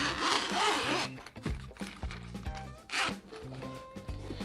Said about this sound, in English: Then zipper here, lock.